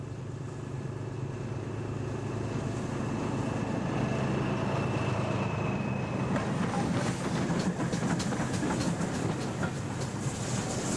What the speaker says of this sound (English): same rake of Mark I coaches hauled by a rare threesome, Class 14, number D9523, N7, number 69621, and GW Pannier